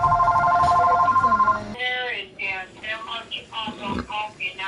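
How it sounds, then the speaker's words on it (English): A telephone rings in the Shadow of the Tomb Raider video game, a steady electronic ring lasting about a second and a half, then someone talks over game sounds. "And that's a phone."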